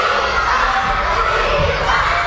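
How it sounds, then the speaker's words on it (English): A crowd of elementary school children screams and cheers at lunchtime, a dense, continuous roar of shrill voices filling an indoor room at constant high volume. "Sandwiches in hand, screams at the top of their little lungs."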